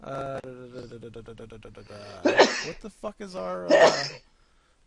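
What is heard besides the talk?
sneeze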